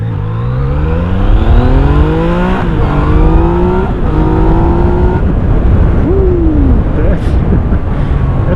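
A Yamaha MT-09 or Kawasaki Z900 naked motorcycle accelerates hard up close, its engine note climbing through several gear shifts with rushing wind noise. It then eases off as the revs drop away.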